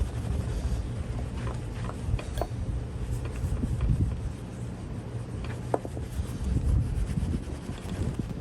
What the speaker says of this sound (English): let's give it another rub down